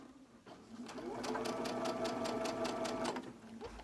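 A sewing machine runs in a steady, rapid stitching burst for about three seconds, piecing slippery quilt-block fabric with a quarter-inch seam, close and fairly loud, starting and stopping cleanly.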